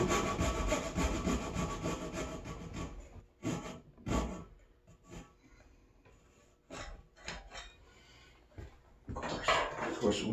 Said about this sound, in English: Good lesson for cutting dovetails when you're trying to get in and get that relief and you can't keep your saw turned sideways in your curve.